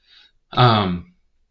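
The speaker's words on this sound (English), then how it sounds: "I got like the tiniest little cough." One short, low throat-clearing cough, close and fairly loud, preceded by a faint breath.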